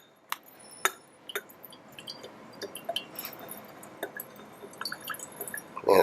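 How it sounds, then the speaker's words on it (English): A glass beaker rinsed with a squeeze wash bottle into a lab waste container: scattered drips and small splashes, faint glassy clinks, with a louder burst of liquid at the end. "I'm going to have to rinse it out a little bit with a wash bottle."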